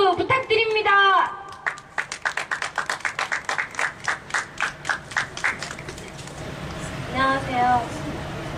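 Crowd at an outdoor Labor Day eve candlelight rally for striking workers clapping together in a firm, regular rhythm that loosens into scattered applause, with voices speaking just before and after.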